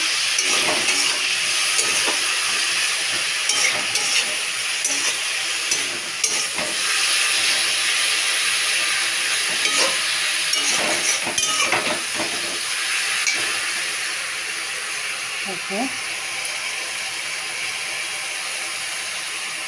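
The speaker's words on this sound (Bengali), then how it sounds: "একটু লবণ দিয়ে দিলাম। এবার একটু হালকা হাতে নেড়ে" Salted sadanote shaak greens are turned gently in a hot frying pan, producing a constant loud steamy hiss and sizzle with intermittent scraping and clicking stirs close by, and no one speaking.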